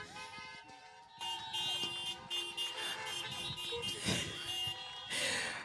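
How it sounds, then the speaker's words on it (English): Several car horns honk together over a busy crowd din at a welcome for a sailing race team, sustained and overlapping blasts continuing throughout. "Everybody honk your horns."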